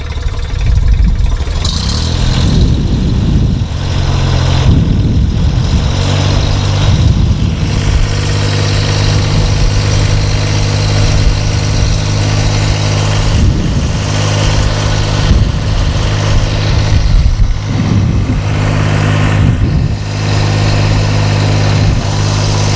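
A 4 inch pump's engine runs steadily at around 2,000 RPM, a loud, continuous mid-pitched drone with a strong low hum and slight rhythmic surges, heard close and without talk.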